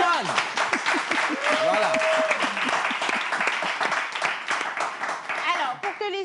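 Audience applause at a French-language semi-final stage event, a busy stretch of many hands clapping while a presenter speaks over it.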